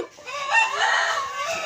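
A fighting rooster lets out a short, close, strained clucking call lasting under two seconds, with no talk over it.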